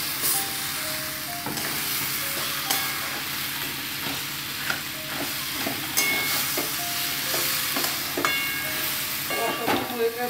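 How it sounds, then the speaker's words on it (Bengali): Boal fish heads frying and being stirred in a pan, a steady sizzling hiss with frequent scraping stirs throughout, close and fairly loud with no talking. "ভালো করে কষিয়ে মাথাগুলো দিয়ে দেবো। এবার মাথাগুলো দিয়ে দিচ্ছি।"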